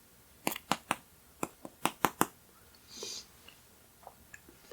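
Crunchy homemade chicken nuggets seasoned with garlic and onion being bitten and chewed, a series of sharp, close crackling crunches in quick bursts, then softer chewing sounds.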